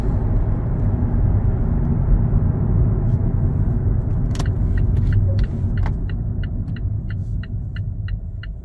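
A Mazda 3 engine hums steadily at low idle as the car rolls to a stop, a continuous close rumble with faint light ticking toward the end and no talk.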